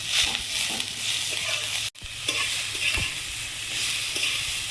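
Onions fry in a pan with a pinch of turmeric and a spoon of salt, giving a continuous loud sizzle with occasional scraping stirs and one abrupt momentary break.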